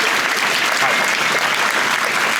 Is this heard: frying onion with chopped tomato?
no